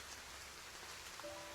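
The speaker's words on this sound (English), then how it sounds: "The rain continues to drizzle" A light drizzle falls as a faint, even patter of rain on surfaces, soft and constant throughout.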